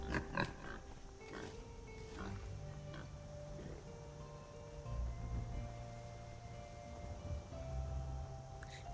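Pig grunts from a farming video game, a few short grunts over a low, steady game background ambience with a faint tonal hum.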